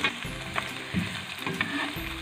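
Cubed onions fry with crushed garlic in a pan, giving a steady soft sizzle with faint scraping and clicking, close and even throughout.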